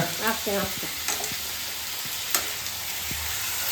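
Onions frying alone in a pan for a home festival meal, giving a steady close sizzle with a few clinks and scrapes of a ladle stirring, no talk.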